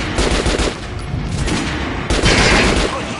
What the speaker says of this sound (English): Try out the rest of the weapons you chose. Fire!